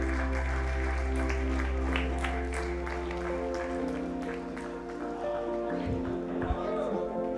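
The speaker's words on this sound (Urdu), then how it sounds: "تالیاں" Steady audience applause fills an opening ceremony hall at the 16th Aalmi Urdu Conference, a continuous dense clatter of hands lasting throughout, with tonal background sound and some voices mixed beneath it.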